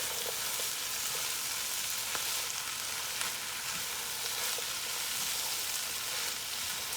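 Thawed shrimp with vegetables sizzling in a pan as a Mediterranean-style sauté, a steady, close, continuous frying hiss with faint crackles and no talking.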